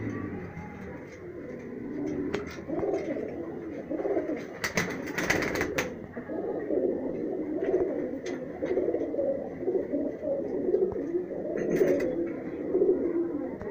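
High-flyer pigeons in Rajsamand, Rajasthan coo in a steady, overlapping murmur that runs throughout, close and moderately loud, with no voices.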